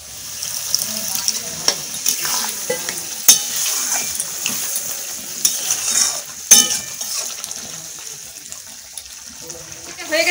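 Water poured into a pan of frying cauliflower and vegetables in a Bengali village kitchen, a burst of hissing sizzle with scattered clinks and stirring, fairly close and moderately loud.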